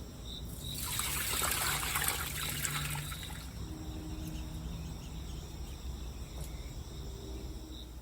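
Rainwater splashes out of a strawberry bucket in a short gush, then trickles and dribbles away quietly, with faint outdoor background noise.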